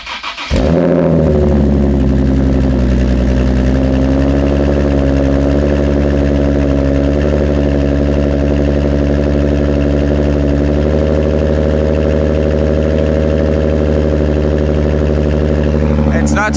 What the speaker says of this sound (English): this is obviously a cold start, so it's going to be louder than it is at idle